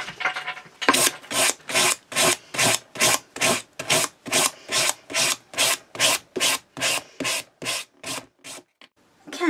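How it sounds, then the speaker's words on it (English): Wood is sanded with about twenty even, rhythmic back-and-forth rasping strokes, close and fairly loud, with no talking. "now I need to find the sander"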